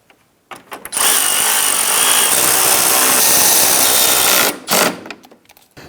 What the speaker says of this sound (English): Now we can snug down the 4 nuts.